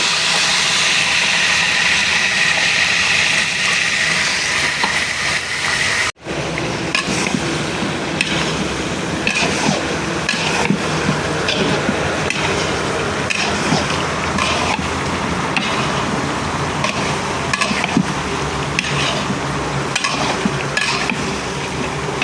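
Chicken leg pieces fry loudly and steadily in spice masala in a pan, a continuous sizzle with brief stirring scrapes and one short interruption.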